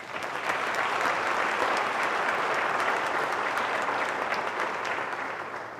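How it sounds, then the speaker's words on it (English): A large audience applauds students at a high school senior award night: sustained, dense clapping that fills the room at a steady loud level for several seconds, easing slightly at the end, with no voices over it. "So I would like you to give them a round of applause."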